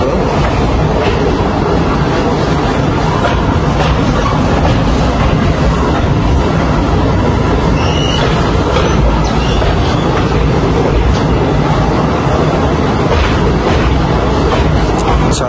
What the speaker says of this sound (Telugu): ఇప్పుడు మనం అలమండ రైల్వే స్టేషన్ తర్వాత భీమసింగి బ్రిడ్జ్ పై నుంచి గోస్తని నదిని అయితే